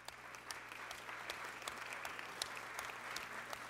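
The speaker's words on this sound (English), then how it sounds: "So give all of those staff members another round of applause." Steady applause from the audience at a full committee vote on the 21st Century Cures Act, honoring the staff members, dense and even clapping under a low steady hum, moderately distant.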